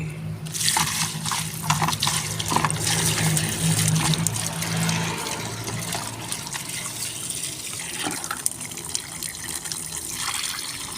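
Alugbati greens being washed by hand in water, a steady splashing and running-water wash that continues throughout, fairly close and loud, with no talking.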